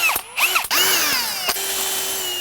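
Power drill pre-drilling screw holes in the track of an Andersen 400 Series storm door, several short whirring bursts with pitch rising and falling, then one longer steady spin, loud and close.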